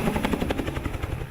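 A helicopter gathering wild horses at Little Book Cliffs makes a loud, close, rapid rotor thudding that beats steadily throughout.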